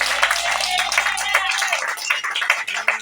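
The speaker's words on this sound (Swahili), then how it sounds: "Shangilie Yesu kwa makofi mengi." Worshippers in a church congregation clap together for Jesus, many hands beating in a loose rhythm under faint voices and a low background hum.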